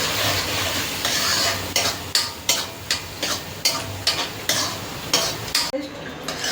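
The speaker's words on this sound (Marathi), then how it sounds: "कांदा लाल होईपर्यंत परतून घ्या" Onions sauté in a pan for hotel-style pav bhaji, a dense, close sizzle punctuated by a regular series of scraping spatula strokes, roughly one every half second, with no voices.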